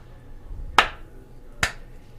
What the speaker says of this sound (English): I just have to give a nice little slow clap